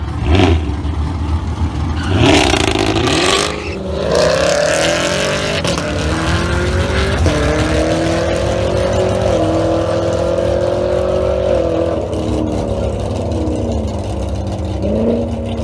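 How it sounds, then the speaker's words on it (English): A slightly modified 2018 Chevrolet ZL1 Camaro roars down a drag strip, its loud engine rising through the gears in long sweeping pulls with brief shift breaks. "this is a slightly modified ZL1 Camaro. Looks like an 18 ZL1."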